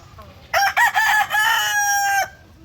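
A rooster on a chicken farm lets out one loud, close crow lasting under two seconds, breaking into distinct rising and falling syllables before a long held final note, with faint farm background before and after.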